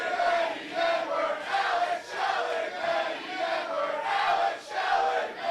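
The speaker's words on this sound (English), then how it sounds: "Dueling chants. Crowd's not even sure who to cheer for at this point." A large wrestling crowd at a tag-team match trades rhythmic dueling chants, alternating pulses of many voices rising and falling in a steady cadence, heard from within the arena.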